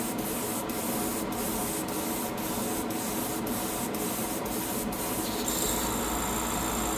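An airbrush set to about 18 psi sprays light coats of paint onto the wheels and hull of a 1/35 scale German Leopard 2 Leguan bridge-layer model, a steady close hiss with faint regular ticks, no talking.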